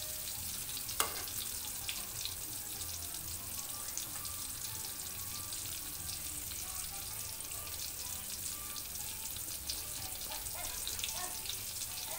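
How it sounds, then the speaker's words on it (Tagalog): Eggplant omelette (tortang talong) fries in oil in a pan with a faint, steady, even sizzle, and one sharp tap near the start. "Habang na-fried po siya, inano sa mantika"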